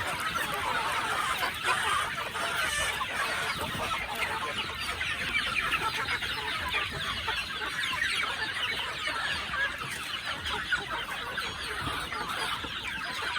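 A flock of chickens clucks and chatters continuously, many overlapping calls at moderate distance with no talking.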